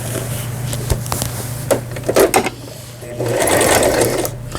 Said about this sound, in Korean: 이건 반달무늬 바느질이고, 반달무늬 모양을 이렇게 내주는 겁니다